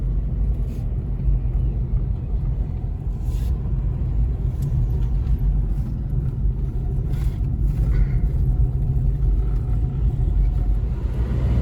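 A car driving on the road, heard from inside: a steady, close low rumble of engine and tyres with a faint wash of road noise, no speech.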